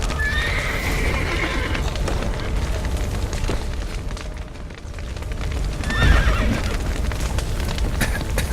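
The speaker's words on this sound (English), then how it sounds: "The horses!" A horse in The Witcher 3 neighs loudly and close, while hooves clip-clop steadily over a rumbling, booming game soundscape; nobody speaks.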